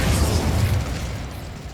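An Incendio fire spell cast in Hogwarts Legacy erupts as a loud, close burst of roaring flame with a deep rumble, then slowly fades over almost two seconds with no talking.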